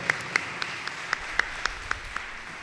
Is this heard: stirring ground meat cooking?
no